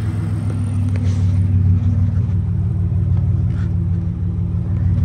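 Unmuffled car engine idling steadily at close range, missing its intake but still fitted with a filter; a loud, continuous low rumble with a throbbing exhaust pulse and no talk.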